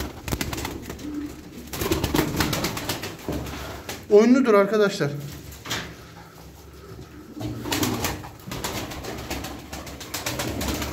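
A strong racing pigeon coos in a brief, close burst of rolling coos midway, with someone talking before and after it and faint shuffling noises around.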